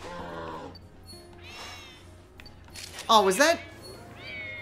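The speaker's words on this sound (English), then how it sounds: "Wait, I'm hearing meows." Cat meows from a creature in the video game New Pokemon Snap sound in several short calls, one louder wavering meow standing out, amid quiet game ambience while players talk over it.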